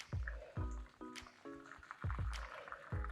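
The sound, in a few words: vegetable broth poured through fine mesh strainer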